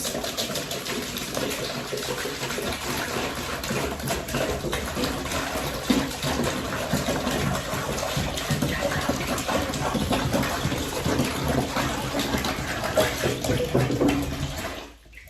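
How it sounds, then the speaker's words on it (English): Water gushes steadily into a bucket for a long stretch, a full splashing pour that tapers off at the very end. "I'll take my water and pour it into the"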